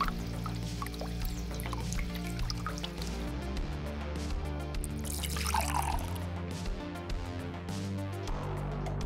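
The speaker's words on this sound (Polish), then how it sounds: "Wlewaj wodę małym strumieniem, żeby mogła się oczyścić." Water trickling through a homemade three-layer filter into a cup, with scattered close drips and a brief louder splashing pour midway over a low steady background hum.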